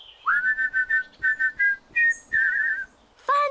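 A cartoon pig whistles a bright, bouncy tune by a straw house, a run of short clear phrases with brief gaps between them, then a final high sustained note rises on its own.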